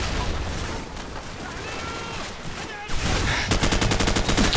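Automatic gunfire in the Call of Duty 4 video game crackles in dense, rapid bursts, grows louder and more sustained toward the end, and mixes with a faint voice.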